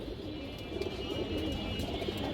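Pet pigeons of fancy breeds coo softly and repeatedly, several low throaty calls overlapping at close range against a steady background hum, with no talking.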